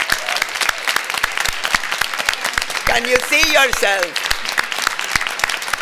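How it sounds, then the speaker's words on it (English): A members' audience at a nursing association meeting claps and applauds in a steady patter of hands while someone speaks over it briefly. "clap and applaud, and the music goes on"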